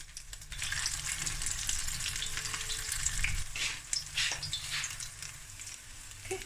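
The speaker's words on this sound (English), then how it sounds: "it's just about frying it with that nice golden brown outer crust" Haddock frikkadel frying in a pan, a steady bright sizzle and crackle of hot oil lasting throughout, close and moderately quiet with no voices.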